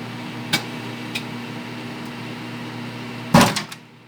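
Three eggs burst inside a running microwave oven over a steady electrical hum. A couple of faint pops come early, then one loud, sharp bang near the end, followed by brief rattling before the hum stops.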